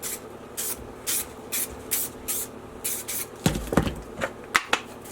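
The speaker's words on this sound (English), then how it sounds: "all you're going to do is just take it and lightly spray 2 coats of this" Bulldog Adhesive Promoter sprayed from a micro-cap spray can onto sneakers: a series of short, even hissing bursts in steady rhythm, close and fairly loud, followed by some handling rustle and a few quicker bursts.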